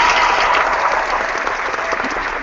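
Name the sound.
audience clapping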